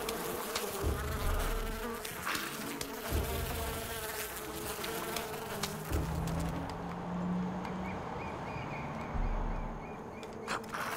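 Bees buzz loudly and continuously in Far Cry 5, a dense close swarm drone filling the scene, with a few low thuds and shifting tones beneath.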